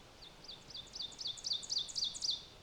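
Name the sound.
ovenbird song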